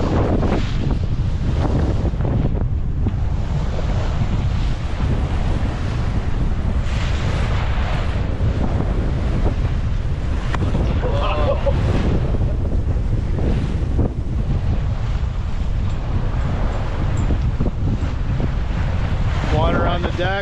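Water washes over the decks of a sailboat on the return from Avalon, Catalina Island, in small craft advisory conditions, a loud, steady rush of spray and surf under heavy wind buffeting the microphone that lasts about twenty seconds.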